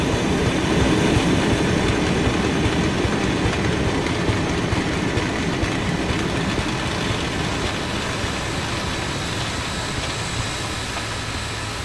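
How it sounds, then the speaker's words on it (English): A dense, rumbling mechanical roar with rattling texture, a designed sound for Manifest 99, crossfades gradually into a steadier, slightly quieter idling train hum. "That original sound crossfaded into an idle train."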